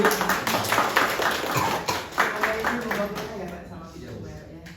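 People in an audience at a Buddhist vihara gathering applaud in scattered, crisp claps that are strongest at first and then thin out and fade, with a voice speaking over the dying applause.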